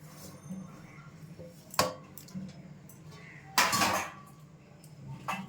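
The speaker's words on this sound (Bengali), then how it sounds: "এটাকে আমি ভালো করে মিশিয়ে নেব, সবের সঙ্গে একটু ভালো করে মিশিয়ে নিচ্ছি।" A spoon stirs chopped green chilli, ginger, onion and coriander in a bowl, producing soft scraping punctuated by a few sharp metallic clinks against the dish, close and otherwise quiet.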